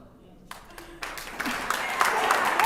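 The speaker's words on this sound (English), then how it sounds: "They clapped it for you!" An audience at a city council meeting starts to applaud, with scattered claps that swell into steadier clapping over a couple of seconds, mixed with voices.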